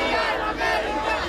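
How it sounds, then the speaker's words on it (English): A protest crowd chants in the street at a rally in a largely Latino neighborhood of New York, flags waving. The voices form a dense, steady roar that stays loud and continuous throughout. "people waving flags and chanting from the safety of the sidewalk"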